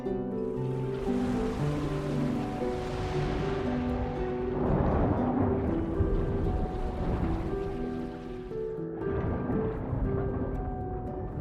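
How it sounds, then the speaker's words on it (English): Water rushing in to fill a sluice chamber in Genshin Impact, a continuous surging wash that swells and recedes in waves over music-like tonal tones, with no speech. "That will fill the empty middle chamber with water."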